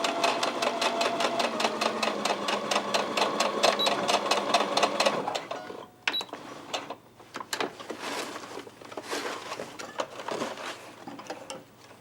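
A sewing machine stitches along a fabric edge in a fast, even mechanical chatter for about five seconds, then stops, followed by quieter handling clicks and fabric rustling close by.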